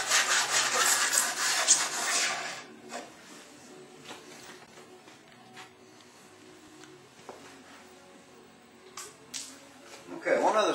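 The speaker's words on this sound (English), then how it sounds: "Just filing it down so it's nice and smooth." A hand file rasps along the edge of a DIY aquarium skimmer pump box, loud scraping strokes at first, then quieter, intermittent rubbing with a few sharper scrapes near the end.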